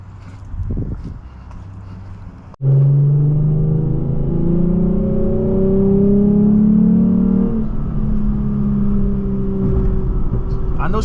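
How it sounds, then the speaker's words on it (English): A straight-piped Lexus IS350 pulls away: a sudden loud exhaust drone rises after a quiet start, then holds a deep steady rumble with shifting tone as the car drives on. "this car really does sound really good"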